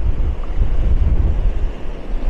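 Strong wind buffets the microphone with a loud, low, blustery roar that surges and eases, mixed with a faint wash like nearby surf, at the seaside in Maspalomas, Gran Canaria.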